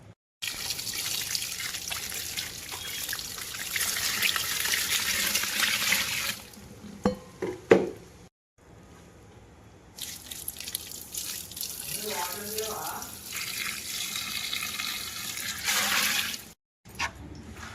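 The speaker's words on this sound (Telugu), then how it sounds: "ఇప్పుడు 10 గిన్నెలు వాటర్ పోసుకోవాలి." Water poured from bowls into a container for a bael fruit bioenzyme, a steady broadband splash and trickle in long stretches broken by short pauses, with a few louder clinks midway.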